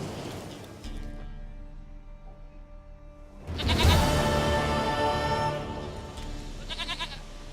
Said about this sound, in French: Une chèvre à moi, gentille, douce biquette.